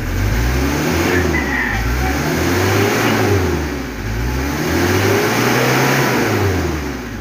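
A close, loud 4D56 diesel engine with heavy smoke problems revs up and down in repeated surges, its pitch rising and falling twice over a steady rumble.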